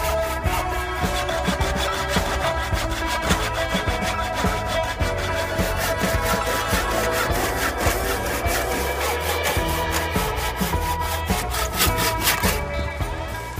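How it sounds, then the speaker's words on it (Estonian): A hand saw cutting through a piece of larch wood, with a fast, steady back-and-forth rasping rhythm that is loud and close and continues without a break. "palun siit puuküljest tuleb saagida üks tükk, mis kaaluks 1 kilo"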